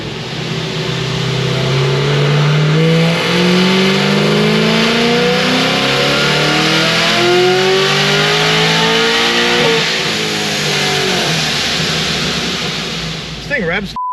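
A supercharged Chevy SS with a ProCharger blower revs hard through the gears, its engine note climbing in repeated rising sweeps, loud and close, with a brief tire squeal and some voice near the end.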